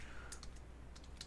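Quick keystrokes on a computer keyboard, a handful of light clicks in a short burst over low steady hum, with no voices.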